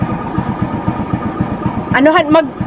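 Motorcycle engine idling close by with a steady pulsing thump, a voice speaking briefly over it near the end.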